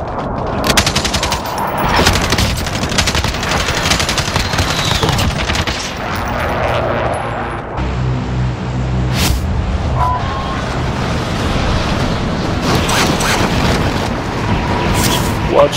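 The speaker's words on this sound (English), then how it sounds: "Allies precision airstrike incoming." Precision airstrike explosions in Call of Duty: Warzone, loud rapid bursts of blasts and machine-gun fire rolling continuously for many seconds, with heavy booms layered through a dense battle din.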